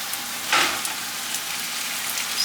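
Tomatoes added to a hot pan with onion for a pork dish, giving a soft steady sizzle with a brief louder burst at the start, moderately quiet and with no voices.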